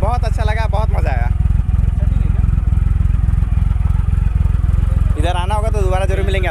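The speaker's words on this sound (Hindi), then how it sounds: "इतनी प्लीसेंट साउंड है एकदम, और इंजन में कोई वाइब्रेशन नहीं है" A Triumph Rocket 3 motorcycle engine runs loud and steady, throbbing evenly from up close while riding on a dusty road. Someone talks over it at the start and again near the end.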